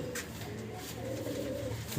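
Soft, low cooing of Lal Jiriya pigeons repeats quietly in the background, with a faint murmur of movement around it.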